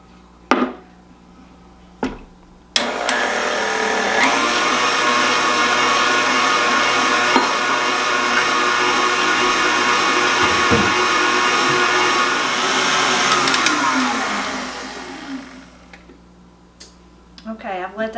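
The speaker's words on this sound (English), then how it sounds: "So first we're going to put the eggs and the sugar in the mixer and let them mix until thick" An electric mixer beats three eggs with sugar in a kitchen, whirring steadily and loudly for about twelve seconds after a couple of sharp clicks, then winding down, with brief clatter at the end.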